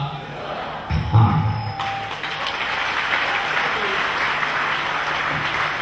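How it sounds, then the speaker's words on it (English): An audience claps steadily at a family reconciliation gathering in Cameroon, a broad wash of hand claps filling the room for several seconds after a brief thump and a short murmur of voices near the start. "You are not clapping enough."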